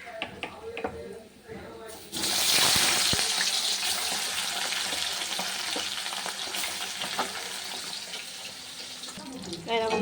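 Tangra fish frying in hot oil, a loud sizzle bursting in after a quiet start as the fish hits the pan, then a sustained crackling hiss with light utensil knocks; a voice talks briefly at the beginning.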